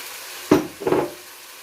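Chicken with garam masala is stirred in a pan over a low flame, two close scraping strokes against the metal with a faint sizzle beneath.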